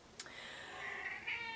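A house cat gives a single drawn-out, high meow close by, with a short faint chirp at the start and a rising tail near the end, heard over quiet room tone.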